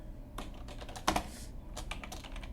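Keys clatter on a computer keyboard in irregular bursts of taps, with one sharper, louder keystroke standing out midway, close and without any voices.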